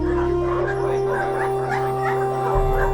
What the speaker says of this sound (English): It's dogs.